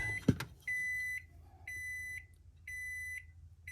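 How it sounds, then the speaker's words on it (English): Three evenly spaced electronic beeps, each a steady high tone lasting about half a second, with a short knock just before the first. "sorry about the beeps"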